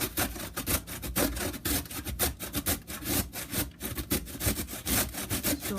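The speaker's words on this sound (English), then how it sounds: "you start grating in your grater" A carrot is grated on a grater in fast, steady rhythmic scraping strokes, close and dry, repeating several times a second without a break.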